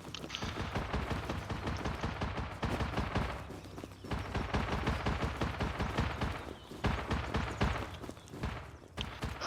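Rapid bursts of gunfire crackle almost without pause during a raid in the survival video game Rust, dense and sustained with brief lulls, sounding fairly distant.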